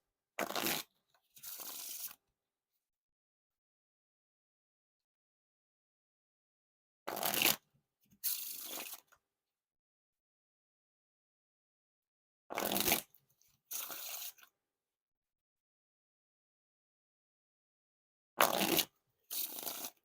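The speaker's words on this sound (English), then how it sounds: "Well, 4 perfect riffles there in a row." Green Wheels playing cards by DKNG and Art of Play are riffle shuffled four times, each a quick pair of crisp fluttering bursts, separated by long silent pauses.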